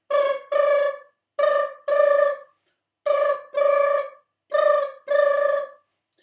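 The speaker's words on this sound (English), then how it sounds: "And just then the upstairs phone starts going." A telephone bell rings in paired bursts, four double rings with short pauses between them. The tone is loud, close and harmonic, and no voices are heard.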